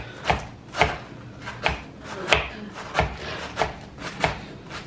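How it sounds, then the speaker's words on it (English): Knife slicing lettuce and tomato on a board, about ten crisp evenly spaced chops in a steady rhythm, close and clear. "So I'm going to just slice up the lettuce and the tomato"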